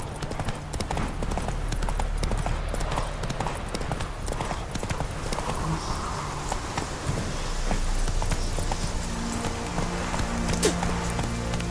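The Witcher 3 horse Roach trots along with a steady rhythm of clip-clopping hooves, moderately loud against faint background ambience in the video game, with no talking.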